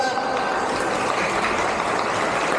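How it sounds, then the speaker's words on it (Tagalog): Group of children clapping at an outdoor feeding program, a steady, dense wash of applause filling the whole moment with faint crowd murmur underneath. "Palakpak po. Palakpak mga bata."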